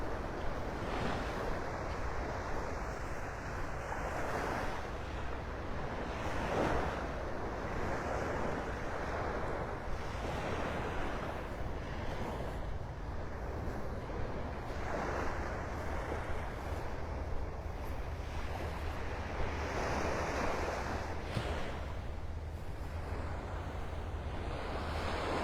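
Steady wash of surf rolling onto a beach at low tide at Clam Pass Park in North Naples, Florida, continuous and moderately loud with wind buffeting the microphone and no voices.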